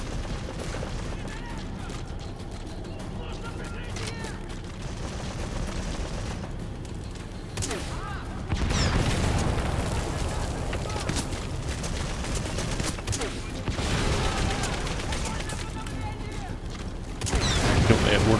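Mortar or grenade explosions in a video game: heavy booming blasts land among rattling gunfire and mechanical clatter, with louder bursts surging in partway through and near the end while people talk.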